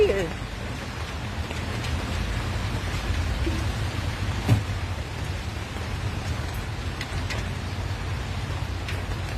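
Steady rain falls on the way to a market in a darkening thunderstorm, a continuous broadband hiss with one brief louder crack midway and voices faintly underneath.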